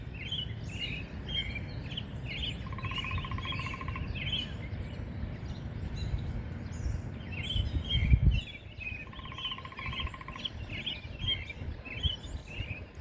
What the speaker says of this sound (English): listening to the woodpeckers.